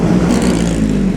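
Historic Lotus race cars sweep past at the Monaco Grand Prix Historique, a loud, close engine roar holding steady for a moment with a broad rushing wash.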